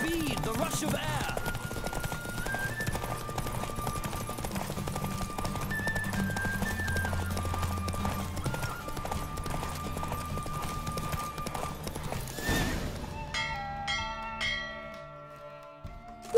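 Hooves clip-clop steadily from a galloping horse in a race in the video game The Witcher 3, a fast even rhythm carried under music and game sounds before a bell-like chime near the end.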